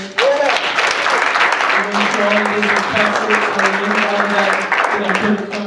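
A crowd at a university hip hop panel discussion claps continuously while a low tonal sound hums underneath, the applause loud and sustained.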